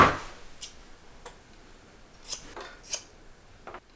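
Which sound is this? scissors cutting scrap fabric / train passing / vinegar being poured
scissors cutting scrap fabric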